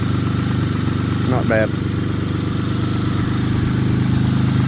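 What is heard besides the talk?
engine of a Metro car running after starting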